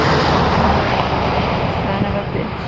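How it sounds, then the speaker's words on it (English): Loud, steady broadband rotor and engine roar from a helicopter passing overhead, continuous throughout with no voices. "I can still hear the helicopter."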